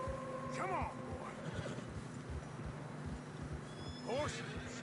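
Two horse whinnies, rising and falling, over a steady wind-like hiss with muffled hoof thuds, a voice speaking quietly in between; horses struggling through deep fresh snow in Red Dead Redemption 2.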